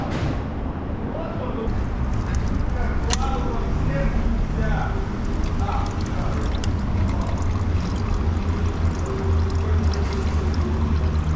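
Oil draining from the sump of a McLaren 720S Spider, a steady pouring trickle that runs continuously in a workshop setting, fairly close and even in level.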